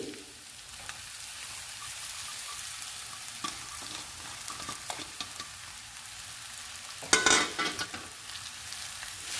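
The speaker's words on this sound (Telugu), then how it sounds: "ఇప్పుడు రైస్ కూడా ఫ్రై చేసుకుందాము 2 నిమిషాలు." Cooked rice frying in a pan for Telugu-style egg rice, a steady close sizzle with scattered scraping stir clicks and a louder burst of stirring near the end.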